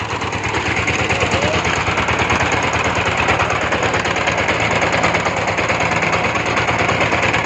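A machine drilling a groundwater well in Laos, about thirty metres deep, runs as a loud, steady, rapid pounding rattle with an engine drone, continuous and close throughout with no pauses.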